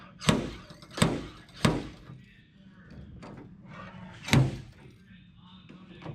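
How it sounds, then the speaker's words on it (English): Sharp metallic taps knock out hail dents on a hail-damaged VE SS Commodore ute, five distinct close hits at an uneven pace, with a person talking quietly between them. "that's Frank and Fred doing a bit of do-it-yourself hail dent removal here."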